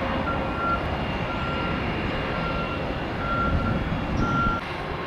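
A heavy FedEx Boeing 767 cargo jet's engines roar steadily at a distance as it lands at Tampa airport, a continuous broad rumble, with faint intermittent beeping tones over it.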